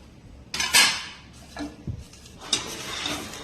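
A metal spoon scrapes and clinks against a pan while coriander and mint are dry-roasted for a buttermilk spice mix, with several irregular clattering strokes close up.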